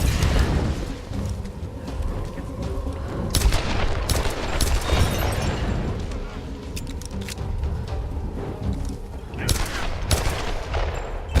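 Gunshots in the Tomb Raider action game, several sharp loud reports and booms scattered over continuous dense game noise, with a voice speaking briefly at times.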